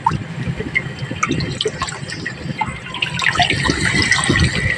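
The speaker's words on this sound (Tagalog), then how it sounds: "Dahil masyado pong malakas ang tubig ay atin pong babawasan." Strong running water gushes and splashes steadily into a freshwater milkfish fry pond, loud and close, with bubbling and dripping textures rising toward the end.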